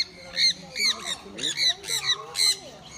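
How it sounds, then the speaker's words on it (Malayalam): Macaw parrots squawk in the Nisargadhama bamboo forest park in Kodagu, sending out a rapid series of harsh, raucous calls close by, one after another with short gaps, over a faint outdoor background. "മക്കാവ് പാരറ്റ്സിനെയാണ്"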